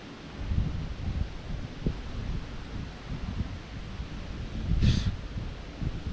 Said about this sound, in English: The wind's crazy today.